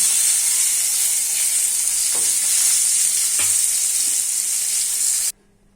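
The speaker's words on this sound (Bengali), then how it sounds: "এই দেখো 5টা মাছ হয়ে গেছে ভাজা," Morola fish fritters fry in hot oil with a loud, steady sizzle and a few faint stirring clicks, cutting off abruptly near the end.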